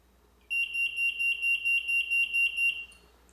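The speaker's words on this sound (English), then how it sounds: "the alarm will sound." A water-leak alarm sounds in a simulated bathtub setup, giving a rapid series of about ten shrill, pulsing electronic beeps close by, then stopping.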